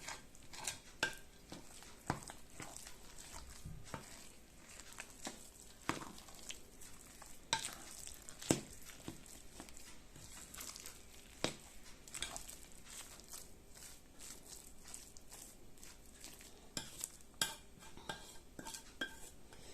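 Repeated scraping and clinking of a utensil against a bowl, irregular and close, as thick, sticky bread dough is stirred and worked; no voices.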